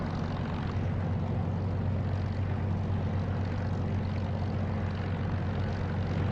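A propeller aircraft engine idles on the taxiway in the DCS flight simulator, a steady, droning low hum with a constant throb that holds evenly throughout, with no talk.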